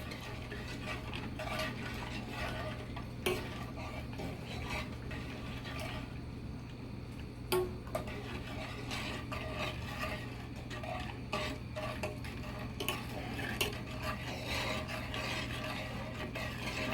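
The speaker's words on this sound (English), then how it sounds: "we just stir until the sugar is dissolved" Spoon stirring sugar in a pot for homemade Nuka-Cola syrup, a steady scraping rasp with soft clinks running continuously and close, with no talking.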